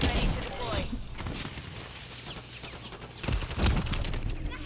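Gunfire in a first-person shooter free-for-all match, with an XRK Stalker rifle on iron sights, scattered shots and bursts crackling over steady game noise, louder clusters at the start and near the end.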